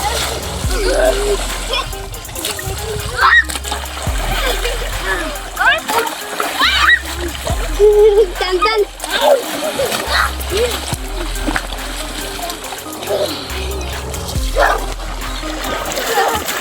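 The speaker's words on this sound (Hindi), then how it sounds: "अभी पानी आया, देख सकते हैं बच्चे नहा रहे हैं।" Children splash and bathe in canal water, with repeated splashes and watery churning under near, continuous talk and kids' voices, plus a steady low hum and an occasional dog bark.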